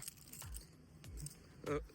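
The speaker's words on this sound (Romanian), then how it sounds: "Arătați-mi Cheile, că eu după chei mai iau." A bunch of keys jangles softly in a few brief metallic bursts while people talk nearby.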